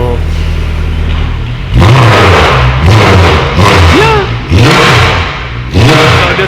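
A Mercedes C63 AMG Edition 507 with an Armytrix exhaust idles with a deep rumble, then gets several loud, close throttle blips that rise and fall in quick succession.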